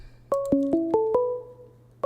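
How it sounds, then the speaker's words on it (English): Phone ringing for an incoming call, a quick run of bright electronic tones stepping through a short melodic pattern, then a brief pause before it starts again. "Can you hear the ringing?"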